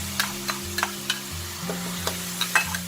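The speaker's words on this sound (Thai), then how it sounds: "เดี๋ยวเราต้องผัดพริกแกงของเราให้หอมสุกก่อนนะ" Green curry paste is stir-fried in separated coconut cream for Thai green curry with prawns, a steady close sizzle broken by regular light scrapes of a spatula stirring the pan.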